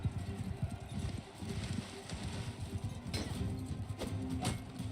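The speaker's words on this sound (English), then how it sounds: "let me just get on this horse" Hooves of a ridden horse clop rapidly and steadily in a Viking video game, quite faint, with a few sharper impacts toward the end.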